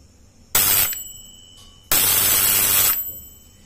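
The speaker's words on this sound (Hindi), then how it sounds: "तो ये डोर बेल मेरी साउंड करेगी और वो ग्लो करने लगेगा" Two bursts of a loud electric doorbell buzzing as its switch is pressed, a short ring followed by a longer one, with quiet pauses around them.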